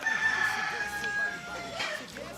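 A native Filipino rooster crows in a long drawn-out call, fairly close, with other birds and faint background noise around it.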